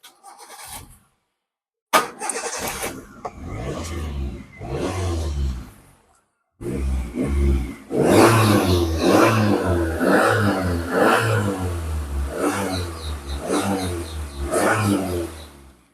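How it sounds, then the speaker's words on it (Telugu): An LPG-fuelled car engine cranks and catches, then idles and revs in repeated surges, loud and close, after a few short starting attempts. "ఒకసారి ఇంజిన్ స్టార్ట్ చేసి చూపిస్తాను చూడండి"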